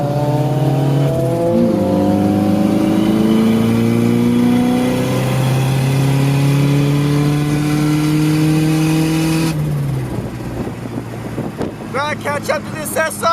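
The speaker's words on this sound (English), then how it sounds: "I'll try and give you guys a flyby, all right?" A tuned Nissan 240SX notchtop with an SR20 engine revs hard as it flies past, its rising engine tone holding loud and close before cutting off sharply, followed by wind buffeting and the car fading away.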